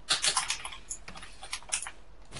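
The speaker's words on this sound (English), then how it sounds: "I can hear the keys" Computer keyboard keys being typed: a quick, irregular patter of light clicks and taps, close and fairly quiet, with short pauses between bursts and no talking.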